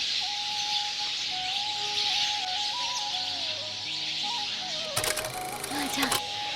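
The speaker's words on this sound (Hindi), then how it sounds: "फिर मैंने जैसे ही सुना मैंने कहा नहीं, ये तो चिड़िया है इतनी सुंदर सुंदर।" Birds at a garden ashram in Vrindavan sing with a wavering, melodic whistle over a steady background hiss, and a cluster of sharper chirps comes near the end while people talk nearby.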